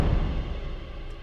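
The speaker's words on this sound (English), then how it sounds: "a bass drum and some cymbal rolls" Deep orchestral bass drum rumble from Spitfire Audio Abbey Road 1 with a swelling cymbal roll shimmering above it, sustained and fairly loud, slowly fading over a second.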